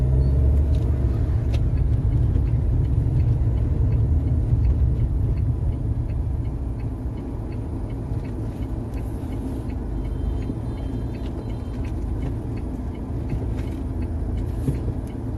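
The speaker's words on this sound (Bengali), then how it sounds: "সামনে এগুলো ফারাক্কারই পুরো ট্রাফিক জ্যাম" Steady traffic on NH34 at Farakka during a jam: a continuous low rumble of idling cars, buses and trucks, close by and fairly loud throughout, with no talk.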